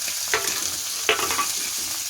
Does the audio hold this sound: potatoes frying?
yes